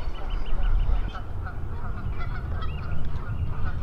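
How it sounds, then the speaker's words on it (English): Geese honk repeatedly from somewhere out near an island at a historical site, a busy flock calling over steady wind rumble with faint voices in the background. "There's a whole bunch of geese out there somewhere."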